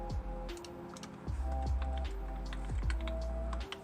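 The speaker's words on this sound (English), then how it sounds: "I'm gonna type it to you." Keyboard typing with scattered key clicks in quick bursts, loud and close, over a steady background hum and tones, with no talking.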